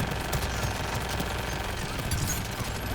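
Rapid automatic gunfire aimed at a gunship in the video game Mass Effect 3, dense continuous bursts of shots layered over game noise, loud and sustained across the whole moment.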